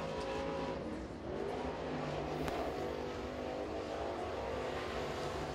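A crate race car accelerates out of turns three and four on the high-banked Crossville oval during qualifying, its engine a sustained, fairly distant roar that rises and shifts in pitch as it passes.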